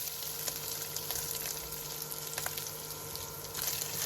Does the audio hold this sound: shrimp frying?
yes